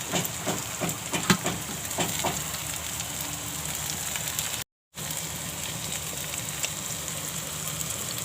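Chopped tomato hitting well-fried onion with curry leaves in a hot pan for a mixed vegetable curry, giving a steady, even hiss and sizzle throughout with faint clinks early on.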